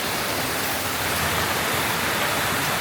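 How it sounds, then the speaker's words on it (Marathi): A hillside waterfall swollen by rain pours in a dense, steady broadband roar, continuous and close without any voices. "इथून हा वॉटरफॉल खाली जात असता"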